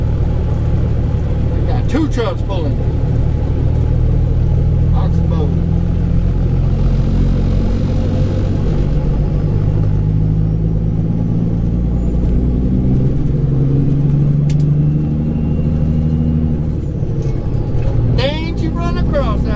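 Heavy trucks haul a super load uphill on a back-country Texas road, a loud continuous low engine drone with air-brake hisses, under near-constant talk from inside a truck cab.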